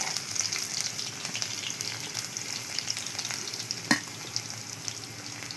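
Chopped garlic sizzles steadily in hot oil in a wok, a constant close crackle with faint scraping stirs and one brief louder clink near the end.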